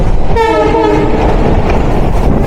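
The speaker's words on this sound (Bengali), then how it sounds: "4 নম্বর প্ল্যাটফর্ম ধরে প্রবেশ করছে তিতাস কমিউটার" The Titas Commuter train's horn sounds in a brief wavering blast over the steady rumble and clatter as it rolls nearby onto platform 4 in Dhaka.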